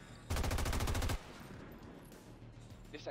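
A rapid automatic gunfire burst from the video game XCOM 2 rattles loudly for nearly a second, then cuts off to a quieter game background.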